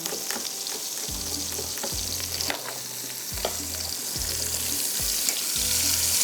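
Seekh kebabs frying in a pan, a dense steady hiss of hot oil running throughout with faint clinks and a low repeating hum beneath, close and continuous, no voices.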